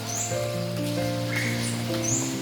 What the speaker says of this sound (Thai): วันนี้ก็ ฝนตกกันอีกแล้วนะ